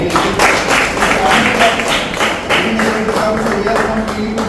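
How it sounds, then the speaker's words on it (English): Athletes at a taekwondo fitness academy clap in a room, a loose, uneven patter of hand claps with a voice murmuring underneath. "Clap for that."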